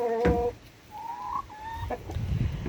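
A broody hen clucks close by in a short run of calls, a sharp cluck followed by drawn-out murmuring notes and softer clucks over quiet background scuffling.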